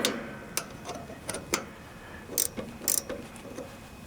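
A 3/8 wrench turning the brake bolts on a riding lawnmower, a series of sharp metallic clicks and ratchety ticks in uneven bursts, close and fairly quiet with no talking.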